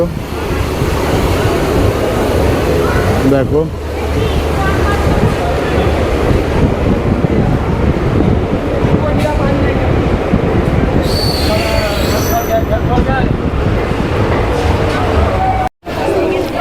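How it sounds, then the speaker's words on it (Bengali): A local train on the Kolkata to Tarapith line pulls away with a loud, steady rumble of wheels on rails and a screech of wheel squeal, heard close from on board, with a voice speaking briefly. "একদম নির্দিষ্ট সময় আমাদের ট্রেন ছেড়ে দিয়েছে দেখতে পাচ্ছ"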